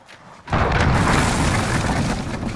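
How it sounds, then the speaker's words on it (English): A cruise missile blast in Call of Duty Modern Warfare erupts after a brief quiet moment into a loud, sustained booming roar that rumbles on without fading. "Allied cruise missile away."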